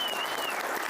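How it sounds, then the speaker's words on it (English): Short burst of audience applause for candidates at a county commissioner debate, steady clapping with a faint tone running underneath. "Round of applause for these guys."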